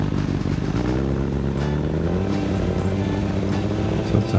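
A motorcycle engine is held at about 6500 RPM for a roadside noise measurement, giving a loud, steady, harmonic roar close by with slight pitch wavering throughout.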